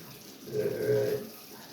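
Tap water runs briefly while an aquarium box filter is rinsed, a soft, close splashing flow that rises and fades within about a second.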